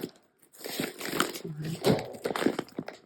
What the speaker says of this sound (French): Donc, on va déballer.